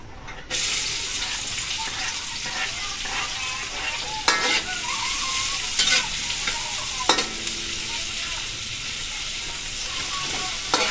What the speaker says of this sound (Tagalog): Ito na po talagay na po natin itong ating sibuyas at bawang tayo magigisa na.